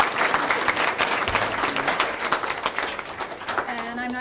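Applause from a press audience at a summer youth employment initiative event, a broad wash of clapping that holds steady throughout, with some voices and background chatter mixed in.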